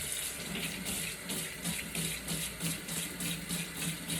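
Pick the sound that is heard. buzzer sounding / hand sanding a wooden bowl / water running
water running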